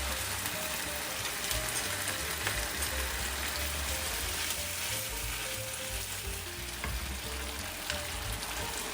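Mapo tofu sauce sizzling in a wok while being stirred, a steady close frying crackle with soft scraping of the spatula, no voices.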